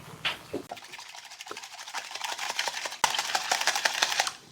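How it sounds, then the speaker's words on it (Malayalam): Sugar mixture beaten briskly with a whisk or beater until frothy, giving a rapid, steady patter of tapping and scraping strokes in a bowl, close and fairly loud, intensifying in the second half. "ഇതാവുമ്പോൾ നന്നായിട്ട് ബീറ്റ് ചെയ്ത് കിട്ടും"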